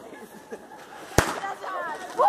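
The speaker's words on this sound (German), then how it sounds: "Das war ein Knallerbsen, okay?" A Knallerbse snap pop banger goes off once in a sharp, loud crack during a New Year's Eve celebration, with scattered fainter pops and people talking around it.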